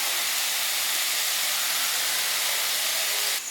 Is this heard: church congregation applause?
no